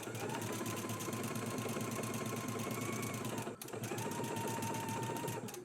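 A sewing machine stitches buttonholes with a fast, even mechanical whir and rapid needle ticking, pausing briefly for a moment before resuming at the same steady pace.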